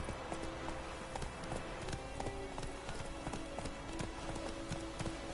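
Roach, a horse in The Witcher 3, gallops with quick, rhythmic hoof clip-clops at low volume, alongside faint steady tones from the game.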